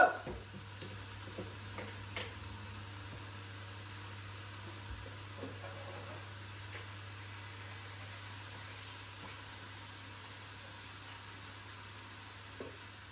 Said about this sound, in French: Donc vous allez mettre la friteuse sur 170 et on va déjà les pré-cuire.